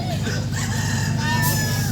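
A rooster crows once at an outdoor community gathering, its drawn-out call rising over a steady low background hum and nearby crowd murmur.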